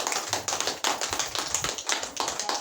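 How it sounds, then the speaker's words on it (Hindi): An audience gives crisp, rhythmic clapping, a steady run of sharp taps repeating at a moderate pace, moderately quiet and without talk. "ताली बजाइए"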